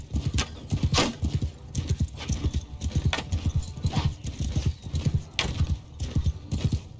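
A horse gallops in the Mount & Blade II Bannerlord video game, with loud, rapid, rhythmic hoofbeats pounding continuously and close up, with no talking.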